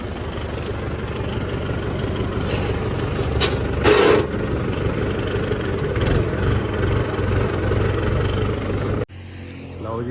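A tractor engine idles with a steady low throb, a few clanks and knocks over it, then cuts off abruptly near the end.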